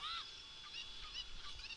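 A cucco chicken in Zelda: Ocarina of Time gives a few squawking, honk-like clucks in quick succession, moderately loud over a steady game background hum, with no talking.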